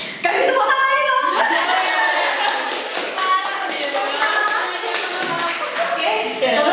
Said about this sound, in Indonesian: Kasih tepuk tangan nih, Bang.